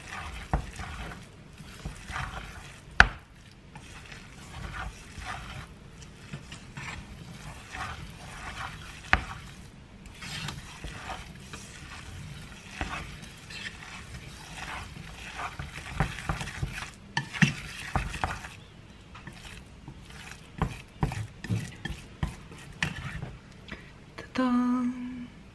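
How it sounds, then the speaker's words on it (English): Chinese dumpling filling for Lunar New Year is stirred in a bowl, a run of quick, wet, clicking scrapes of utensil against dish that comes in irregular bursts, close and moderately quiet, with no talking. "And now it's time to stirring all the mixture."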